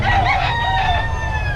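A rooster crows loudly and up close while chickens cluck around it, over a steady low rumble, with no talk.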